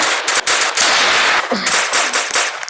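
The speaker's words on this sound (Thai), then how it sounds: "ตอนนี้ มันกำลังยิงกันแบบฟุ้งซ่าฟุ้งซ่านเลย" Rapid, loud bursts of gunfire crackle almost continuously in a Roblox World War I battle game, dense overlapping shots with no voices.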